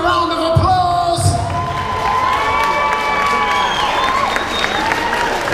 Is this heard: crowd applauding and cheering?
yes